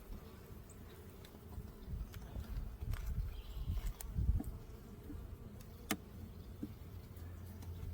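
Honeybees hum softly around an open hive as frames are checked in an apiary, a faint low droning buzz with occasional light clicks and knocks.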